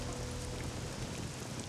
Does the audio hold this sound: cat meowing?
no